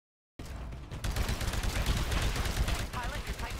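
Hemlock rifle gunfire in the shooter Titanfall, starting abruptly after a short silence with rapid loud bursts of shots over dense battle noise, with a voice speaking underneath.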